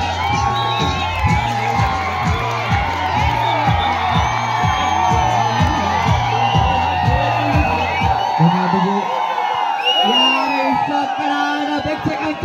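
Spectator crowd at a kabaddi mega final cheering, whooping and shouting over a pulsing loudspeaker beat, dense and loud, with a commentator's voice speaking over it.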